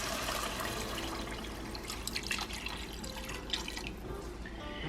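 Water poured into a pot over medium-high heat while making squid rice, a steady splashing, trickling stream running for several seconds at close range.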